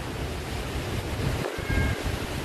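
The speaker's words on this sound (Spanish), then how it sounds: "Se intensifican las olas. Hay mucho viento." Strong ocean waves surge and crash continuously while heavy wind buffets the microphone during Hurricane Olaf, a loud, dense roar of surf and gusts with no voices.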